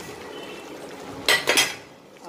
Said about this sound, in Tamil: அப்ளா ஆட் பண்ணி இந்த ப்ரோக் பண்ணாமல் கொஞ்சம் நீங்கள் மிக்ஸ் பண்ணிக்கோங்க.